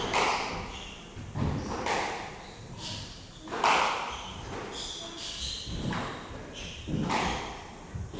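A squash ball is struck back and forth in a women's squash final, sharp hollow thwacks and court thuds every second or so in a steady rally, with faint voices around.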